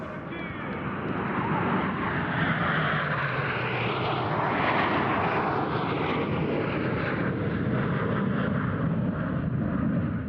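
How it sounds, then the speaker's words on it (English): Four MiG-29 Fulcrum fighter jets pass over a Russian Air Force anniversary airshow near Kubinka, their engines a loud, sustained broadband roar that holds steady throughout with no talk. "The telltale smoke gives away the arrival of 4 MiG-29 fighters, NATO codename Fulcrum."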